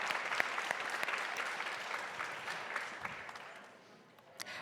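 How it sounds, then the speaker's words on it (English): Audience applause at a panel on presidential elections and democracy, a steady wash of clapping from a sizable crowd that holds for several seconds and gradually thins toward the end. "so yes, clap."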